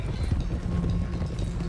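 Horse hooves clop steadily on the ground in Red Dead Redemption 2 during a horse theft, a continuous, fairly close running rhythm with no pause.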